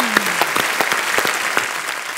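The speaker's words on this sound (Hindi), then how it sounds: "जोरदार तालियां एक बार" A studio audience claps enthusiastically on a comedy talk show, a dense steady wash of hand claps, with a faint voice briefly audible underneath.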